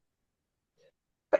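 A single sharp human sneeze bursts out close and fairly loud, preceded by a faint brief intake of breath, in an otherwise quiet room.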